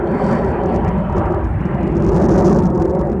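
An airplane flies overhead, a loud broad rumbling roar that fills the short stretch at a steady level, swelling slightly toward the end, with no talking.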